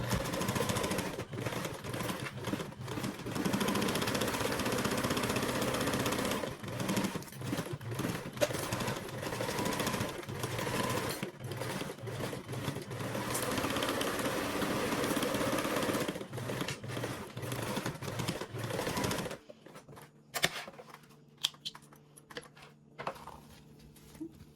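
A sewing machine bastes layers of fabric together in a long, steady whirring run of rapid stitching, close and loud, then stops abruptly near the end, leaving quiet handling noises.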